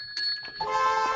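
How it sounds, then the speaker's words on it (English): A bell sound effect used on a live hockey podcast, a single bright metallic ding-ring with shimmering overtones, close and clear, lasting about a second. "That's the interesting bell."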